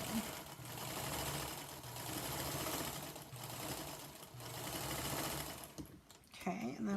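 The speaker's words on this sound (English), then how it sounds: "I'm going to put my 1/4 inch foot here on my Featherweight, lining right up against that drawn line, and I'm going to start" A Singer Featherweight sewing machine with a quarter-inch foot stitches a seam along a drawn line, whirring steadily and close for about six seconds before stopping.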